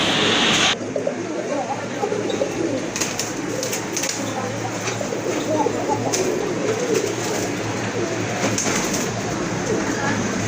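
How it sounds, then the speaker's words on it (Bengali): Pigeons at a crowded pigeon market coo softly and repeatedly amid a dense wash of bird noise and a steady hum, with people talking throughout. "আর এক জোড়া কবুতর দেখেন"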